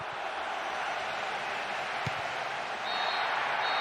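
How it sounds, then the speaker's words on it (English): Steady, broad roar from a stadium crowd at the final whistle of a football match in the video game Ultimate Knights, a dense sustained wash of cheering that swells slightly toward the end, with a thin high whistle-like tone entering late. "A huge roar from the crowd as the referee blows the final whistle."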